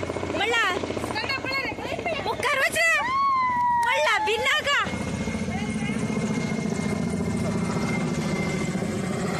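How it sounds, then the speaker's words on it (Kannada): An airplane passes low over a temple in Goa. Someone talks over it at first, and then a steady, broad engine roar fills the rest of the clip. "ಅದ್ರ ಮೇಲ್ಗಡೆಯಿಂದನೇ ಏರೋಪ್ಲೇನ್ ಹೋಗುತ್ತೆ."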